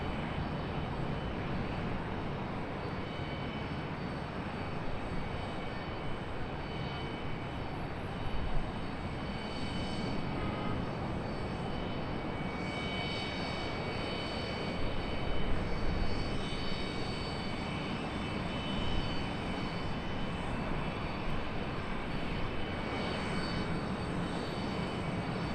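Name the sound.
JetBlue airliner at Charlotte Douglas International Airport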